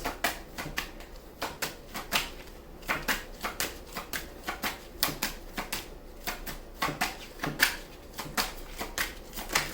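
Tarot cards being shuffled by hand, a rapid run of crisp riffling snaps and flutters repeating in bursts, close and clear with no talking.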